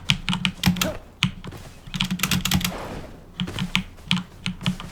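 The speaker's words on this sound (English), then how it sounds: "I got a few complaints about my keyboard being really noisy." Rapid clicking from a computer keyboard comes in quick, uneven bursts of keystrokes with short pauses between, close and crisp, and no voices.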